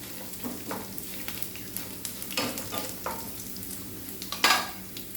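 Urad dal sizzling in oil in a pan over high flame, a steady frying crackle with occasional stirring scrapes and utensil clinks, close and moderately quiet, no talking.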